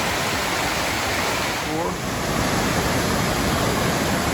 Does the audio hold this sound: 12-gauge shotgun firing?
no